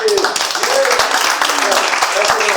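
Guests at a book launch clap for a man being honoured, a close, lively burst of many hands that continues steadily while voices call out and talk over it.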